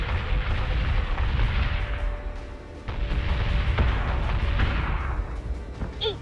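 Spaceship weapons fire in the space combat game Battlestar Galactica Deadlock, a dense rumbling barrage of booming shots and blasts that runs continuously, loud and close, with no talk.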